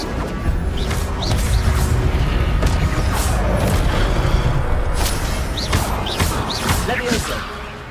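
Fire spell cast in the video game Hogwarts Legacy, a dense roaring burst with crackling impacts and crashing debris sustained at steady loudness, with a voice speaking over it.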